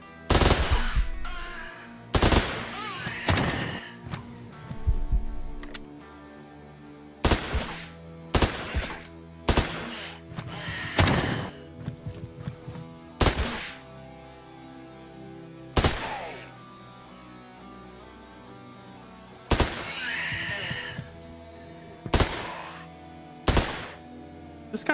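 Rapid bursts of video game machine-gun fire unloading a full magazine on enemies, loud sharp volleys repeating in irregular clusters with short pauses between, no talking over them.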